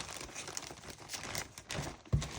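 Wrapping around antique and vintage fabric trims crinkles and rustles in soft, irregular handling noises up close, ending with a short louder crunch and no speech.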